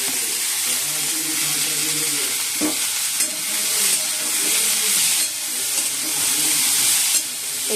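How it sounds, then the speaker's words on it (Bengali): Small pieces of potato fry in oil in a wok, giving a close, continuous sizzle with bursts of stirring and a few louder spatters throughout. "কড়াইতে তেল দিয়েছি, আর একটুখানি আলু দিয়েছি"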